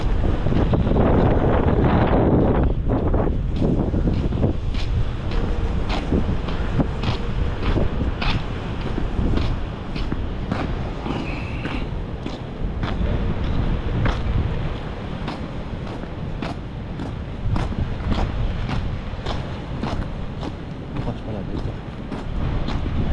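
Strong wind roars and buffets the microphone continuously, with repeated creaks and knocks cutting through the gusts.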